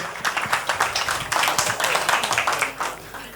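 An awards-night audience at a Turkish prestige ceremony claps loudly and unevenly as a singer is welcomed onto the stage, the hand claps close and vigorous with some shouts mixed in.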